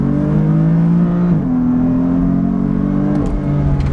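A BMW F80 M3 in sport mode on a BOOTMOD3 Stage 1 ethanol map pulls hard, its engine note climbing loud and close through a gear change, with no talk.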